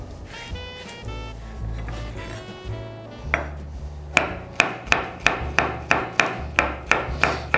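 A knife mincing cleaned garlic cloves on a board for a goat meat rice dish, first soft rubbing and scraping, then a steady run of sharp, evenly spaced chopping taps close by, with no talking.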